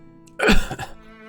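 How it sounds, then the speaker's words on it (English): A character's cough in the fantasy video game Wildermyth, one short throaty burst, fairly close and clear, over a quiet ambient game background with a faint tonal hum. "Poor Nakomi, got a bit of a cough."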